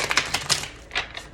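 Tarot cards shuffled in quick bursts of crisp, papery riffling and flicking, close and fairly loud, with a short pause before a final softer riffle.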